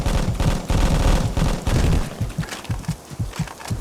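Gunfire in a Vietnam War firefight in the video game Vietcong: dense overlapping bursts of automatic fire, then a scattered series of separate sharp shots and thumps, loud and close.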